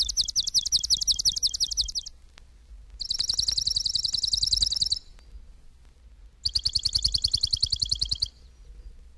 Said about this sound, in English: Swamp Sparrow.